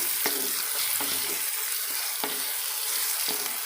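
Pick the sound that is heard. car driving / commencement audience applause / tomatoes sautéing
tomatoes sautéing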